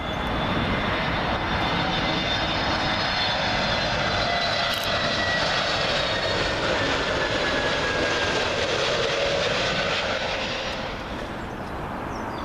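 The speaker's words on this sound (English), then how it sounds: "up next, Aer Lingus 321neo from Dublin" An Aer Lingus Airbus A321neo from Dublin lands at Heathrow on runway 27L. Its loud jet engine roar holds steady and close overhead for the whole stretch, then eases slightly at the end.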